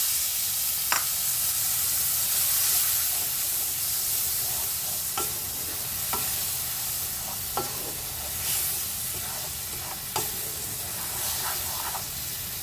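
Masala spice paste frying in a hot pan after asafoetida, with a steady soft sizzle broken by occasional scrapes and taps of a spoon stirring it.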